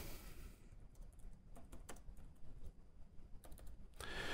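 Quiet, close typing on a computer keyboard: a quick run of light key clicks in uneven bursts, with brief pauses, and no voices.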